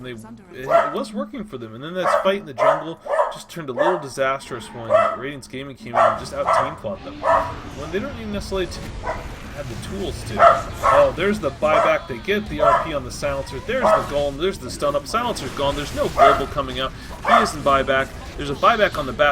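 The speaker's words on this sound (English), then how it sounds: "Apologies for the dog." A dog barks and yips in the background, repeated short barks mixed under continuous, fast-paced esports commentary on a Dota 2 match.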